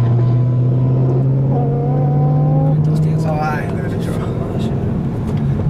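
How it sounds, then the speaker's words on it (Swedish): BMW M3 engine, either the S85 V10 or the V8, revving steadily with a sustained loud drone that climbs briefly then eases, heard from nearby with people talking over it. "Nej, vi kan gasa på nu."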